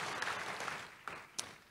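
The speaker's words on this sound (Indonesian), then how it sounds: "Kasih tepuk tangan yang meriah untuk Tuhan Yesus." A church congregation applauds during a sermon, a soft, distant patter of clapping with a few sharper individual claps standing out near the end.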